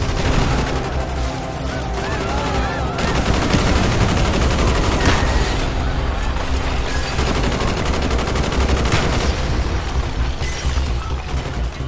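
Dense covering fire in Call of Duty: Black Ops rolls on through a street fight, with overlapping automatic bursts, booms and battle clamor, loud and continuous, with no clear talk over it.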